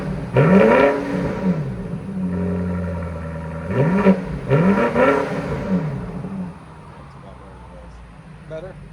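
A 2023 BMW XM with a 4.4L twin-turbo V8, X-pipe and Borla ATAK exhaust revs hard twice close by, each burst rising and falling before settling to a lower idle rumble.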